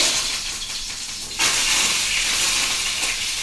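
Marinated fish sizzling in hot oil in a pan, a loud steady hiss of frying that swells sharply partway through and then holds evenly.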